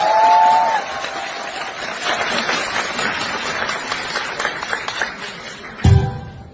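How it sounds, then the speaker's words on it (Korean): Wedding guests clap and cheer in a broad, continuous wash of applause, with crowd noise and a sharp thump near the end. "여러분 박수와 함성 부탁드리겠습니다"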